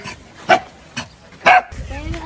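Several dogs, the offspring of one mother dog, bark in short separate bursts at a farm compound, a few sharp yaps close by while background noise and a voice fill the gaps.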